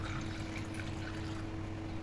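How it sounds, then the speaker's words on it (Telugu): A glass of water pours steadily into a tea pot, a continuous soft gushing stream that stays even and faint throughout with no talking. "ఇంకా 1 more గ్లాస్ వేస్తున్నాను"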